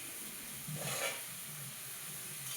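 Chopped tomatoes hit hot oil in a wok seasoned with five-spice seeds, dried chilli, bay leaf and mustard, giving a steady, fairly quiet sizzle and hiss that swells briefly near the middle.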